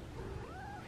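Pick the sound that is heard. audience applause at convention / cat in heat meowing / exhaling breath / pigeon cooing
cat in heat meowing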